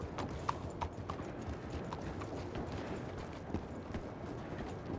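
Several horses clip-clop steadily on hard ground at close range, the hoofbeats an irregular stream of sharp knocks over constant outdoor background noise, with no clear talk.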